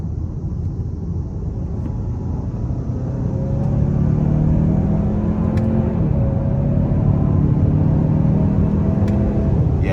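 A 2024 Hyundai Santa Fe Calligraphy with the 2.5-litre turbo four accelerates hard on paddle shifts, its engine drone climbing in pitch, dropping at each shift and climbing again. The sound is heard from inside the cabin, loud and steady, with no talking.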